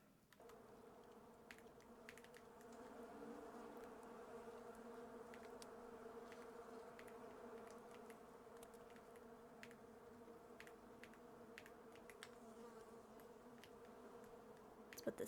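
Bees buzzing in the video game Island Beekeeper, a steady low droning hum lasting throughout at low volume, with faint clicks scattered over it.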